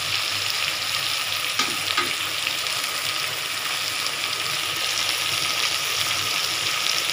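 Potato, onion and garlic fry in a pan for a tangra fish curry, a steady, even hiss of sizzling oil with a couple of faint stirring knocks early on, no talking.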